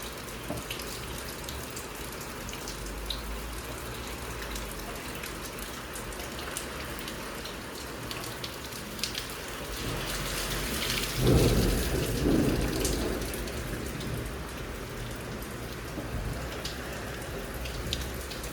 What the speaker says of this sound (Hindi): How can anyone hate the rain?